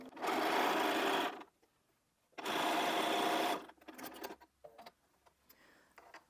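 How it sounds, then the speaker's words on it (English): A sewing machine stitches across the top of a Christmas stocking cuff in two steady, close whirring runs about a second long each, followed by fabric handling and small clicks. "I'm going to sew that across the top"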